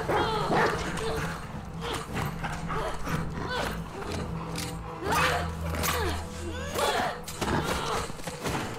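Dog barking and whimpering in the video game The Last of Us Part II, several sharp yelps and whines scattered among game noise and footsteps, with voices talking over parts of it.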